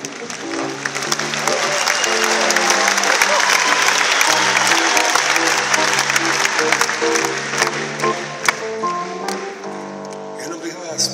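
An arena audience at a concert in the O2 Arena claps steadily and densely for the whole stretch, the dense patter blending with a sung melody and instrumental music underneath.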